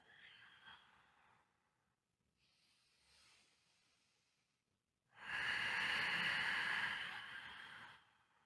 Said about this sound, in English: I like to exhale down, a little ujjayi breath, subtle contraction of the glottis at the throat